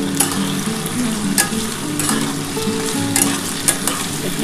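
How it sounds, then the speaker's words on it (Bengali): Pui stems (mechuri) frying in a pan with a steady close sizzle, with regular scraping stirs and occasional louder clatters of the spatula against the pan, no voices. "এই যে মেচুরিটা এবার দিয়ে দিলাম। এবার এটা একটুখানি ভালো করে লাল লাল করে ভাজবো আমি।"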